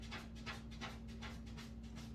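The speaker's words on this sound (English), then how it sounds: "That's my dog." A dog panting close by, quick rhythmic breaths repeating steadily at a faint level over a constant low hum.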